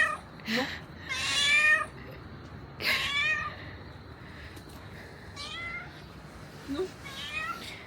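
A cat meows repeatedly, several drawn-out cries with pauses between, close by, with faint background noise.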